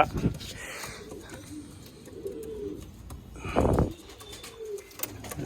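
A pigeon coos softly in low, rolling bursts, a few spaced calls over quiet background chatter.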